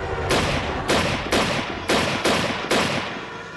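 Six gunshots fired in quick succession, each a loud sharp crack with a short decaying tail, spaced roughly half a second apart with no voices.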